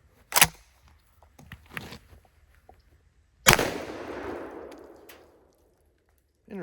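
A shotgun firing all-plastic shotgun shells at a pizza box target: one sharp loud blast, then a second heavy report with a long rolling decay, plus small clicks and handling sounds between.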